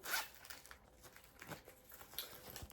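Zipper on a small green faux leather pouch being opened, a close series of quick rasping pulls with light crinkling, quiet and alone.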